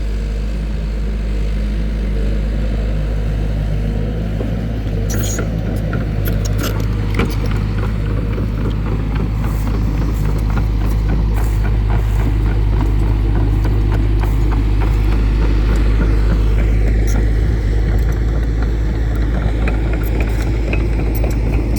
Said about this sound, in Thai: รถทำงานนะครับ